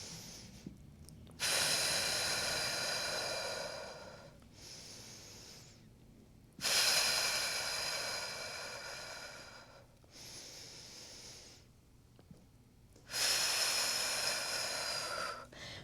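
Heavy, drawn-out breaths come during a mat pilates exercise, loud and close with airy, hissing exhales, each long breath rising and fading in a slow repeating cycle separated by quieter pauses.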